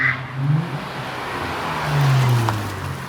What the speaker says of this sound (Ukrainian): Вихлоп, вихлоп, до речі, звучить нормально, на голову не давить